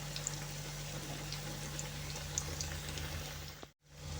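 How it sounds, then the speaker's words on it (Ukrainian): Dough crunchies (khrustyky) made with mineral water and sour cream sizzling in hot oil, a steady faint crackle and bubbling with small pops, cut by a brief silent gap near the end. "перевертаємо на іншу сторону і смажимо до готовності"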